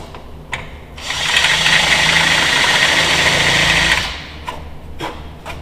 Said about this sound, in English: using a rivet as a guide, we countersink them